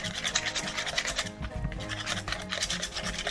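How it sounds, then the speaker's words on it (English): A whisk scrapes steadily around a bowl, mixing a thick dough for a venison wellington, a continuous close scratching and rubbing with no speech. "I'm going to switch to a whisk"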